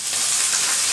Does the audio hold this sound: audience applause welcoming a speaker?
no